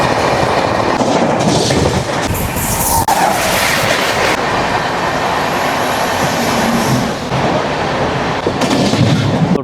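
Chennai Central to Mumbai LTT Superfast Express 12164 runs loud and close, a steady roar of wheels and rattling carriages with sharp clacks and bangs over the rails throughout.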